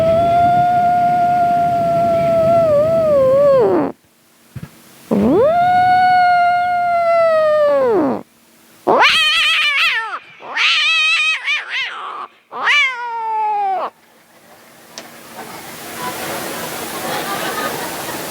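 A male mimic imitates cats fighting at midnight during a live comedy mimicry act: long, wavering yowls and rising caterwauls in close, loud bursts separated by short pauses, then fading into a noisy hiss at the end.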